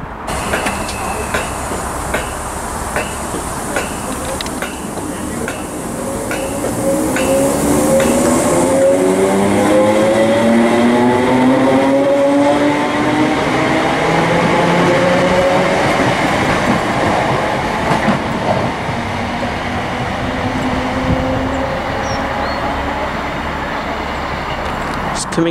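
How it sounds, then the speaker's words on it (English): A ScotRail Class 318 electric train, the Dalmuir to Larkhall service, pulls into Partick station with a rising motor whine, rumble and clicking wheels over the rails, then slows as it draws to a stop. "Coming in now, 1611, first ScotRail service from Dalmuir to Larkhall."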